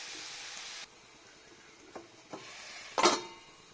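Ridge gourd curry cooking in oil in a pan, a steady sizzle that cuts off abruptly as the lid goes on, followed by a few faint clinks and a sharp metallic clatter.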